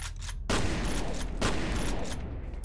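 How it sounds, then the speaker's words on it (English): Sustained assault rifle fire in the shooter game F.E.A.R., a dense, loud burst of rapid shots running almost without pause, with a sharp renewed volley partway through. "You were using just a regular old assault rifle"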